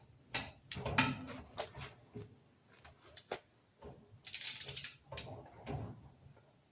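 A torque wrench tightens bolts on a Robin 2PG golf cart engine, giving quiet, irregular ratcheting clicks and knocks with a brief rougher scrape, close but faint.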